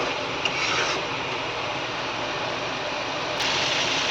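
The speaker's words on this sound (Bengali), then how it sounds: "টমেটোর পিউরিটা দিয়ে ভালো করে নেড়ে কষিয়ে নিতে হবে" Tomato puree and spices being stirred and fried in a pan for a potato and rohu fish curry; a steady, close sizzle with scraping stirring noises runs throughout.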